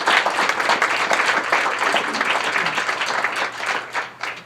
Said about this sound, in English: a great big thank you and a round of applause